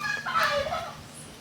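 A chicken in a rural Brazilian yard clucking in a brief, close burst of calls.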